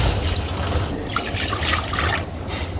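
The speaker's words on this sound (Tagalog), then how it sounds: "tubig." Water pours steadily into a cooking pot during home preparation of meatballs with egg, a close, continuous splashing rush with no talking.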